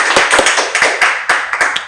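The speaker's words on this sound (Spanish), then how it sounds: "un aplauso para Mario." A crowd claps in a brief burst of applause for a guest at the close of a Mexican interview show, with steady, dense clapping that holds near and lively throughout.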